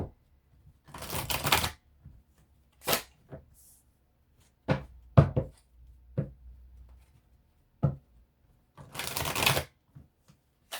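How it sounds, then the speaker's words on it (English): Tarot cards shuffled by hand in several separate bursts of riffling and flicking, close and crisp, with quiet pauses between them and no speech. "Let's do some tarot to go along with this."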